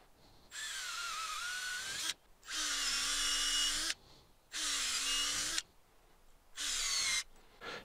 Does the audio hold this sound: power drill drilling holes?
yes